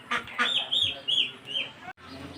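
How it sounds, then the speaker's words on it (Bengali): Chinese ducks being fed in the afternoon at a small farm, giving a run of short raspy quacks and calls close by, with brief pauses between them. "হাঁস কীভাবে খায়।"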